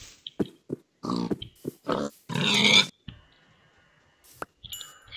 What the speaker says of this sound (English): I hear pigs.